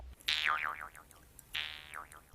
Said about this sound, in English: The human performance is driving the shape of the twanging Jew's harp.